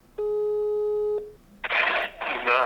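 A steady telephone ringback tone sounds for about a second during a call to a firewood delivery business, then a caller's voice answers and speech follows.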